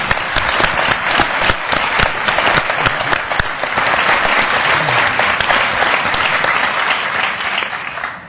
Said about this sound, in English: I do think we should give Virginia a huge round of applause for the work she does